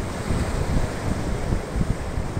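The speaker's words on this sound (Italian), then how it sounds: "sta avvertendo un bel vento teso, un bel vento forte" Strong wind buffets the microphone at a stormy beach, a loud continuous roar with gusty surges and a wash of surf beneath, no voices present.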